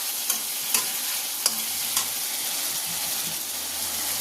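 Spice masala sautéing in a pan with a constant hissing sizzle, punctuated by a few sharp spoon scrapes early on before settling into an even fry.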